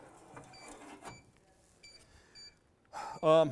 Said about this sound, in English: it's a fault code that we're listening to there